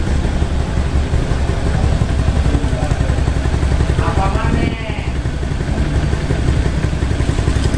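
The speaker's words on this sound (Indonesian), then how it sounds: "untuk motor Suzuki Spin kadang-kadang suka rewel ya ketika kita menemukan motor ini dalam kondisi berebet ya" A Suzuki Spin scooter engine with a sputtering fault runs loud and close, its uneven idle sputtering steadily, with a brief dip around midway.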